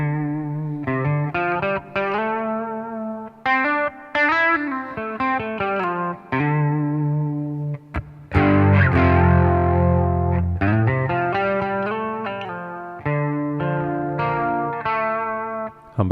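Electric guitar with humbucker pickups played through the advanced chorus setting of a TC Electronic Plethora X3 pedal, with shimmering, wavering chords and note runs, one louder strummed passage midway, and short pauses between phrases.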